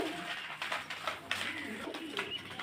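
A pigeon from an old, prized breed coos softly in a loft, several low throaty coos spread across a couple of seconds with bird noises and faint background chatter.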